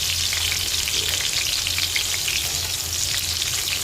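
Onions for beef caldereta deep-fry in hot oil with a dense, steady, close sizzling hiss and faint bubbling throughout, with no talking.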